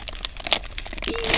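Packing tape is ripped off a cardboard gift package in a series of crackly, crinkling pulls and tearing bursts. It sounds close and fairly loud, with no voices.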